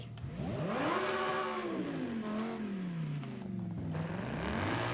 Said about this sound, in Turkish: V8 gibi ses çıkartıyor.